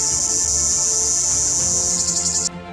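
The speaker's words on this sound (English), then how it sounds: "Cicadas buzz until the air seems electric." Cicadas in a Vietnamese forest hold one loud, dense, high-pitched buzz that fills the air from start to finish, then cut off abruptly near the end. No voices are heard.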